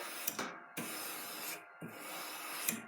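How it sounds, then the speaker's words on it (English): Long, rhythmic rasping strokes of sandpaper scraping by hand over a chef knife blade, close up, each pass a steady hiss with brief pauses between. "a nice long sanding stroke"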